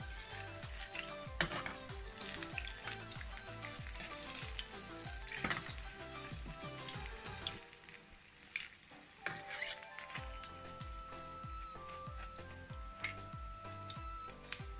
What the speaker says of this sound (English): as you can see, my akara is cooking. Just turn it.